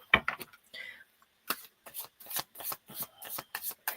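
A deck of tarot cards being shuffled by hand, a run of quick papery riffles and flicks in separate bursts, close and crisp, with short pauses between them.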